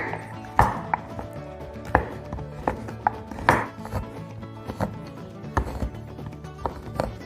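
A chocolate block being chopped with a knife on a cutting board for fudge brownies, a series of sharp, irregular thuds and clacks up close, some hard and resonant, with quiet gaps between strikes.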